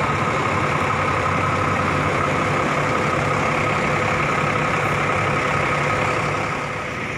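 A long-distance intercity bus on the Medan to Surabaya route idles at a roadside rest-stop restaurant before setting off, its steady low diesel drone holding constant and close throughout with no talk.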